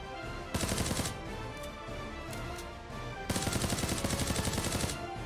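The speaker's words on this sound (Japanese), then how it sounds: "周囲で多数の銃声、万全に行動してください" Bursts of rapid automatic gunfire in the video game Knives Out, loud and close, two sustained volleys with quieter game ambience and scattered shots between them.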